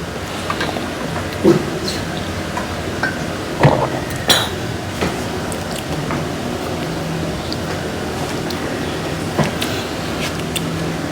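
Dishes being washed by hand at a sink, with scattered clinks of plates and cutlery over a steady running-water wash, a few sharper knocks standing out, no talk.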